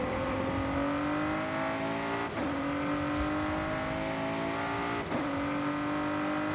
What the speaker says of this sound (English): it really just sounds great going through the gears, every shift